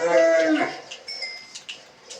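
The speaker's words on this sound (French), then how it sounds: "Ah, une vache." A cow in the Minecraft video game moos once, a loud close low call at the start that fades into quieter game sounds.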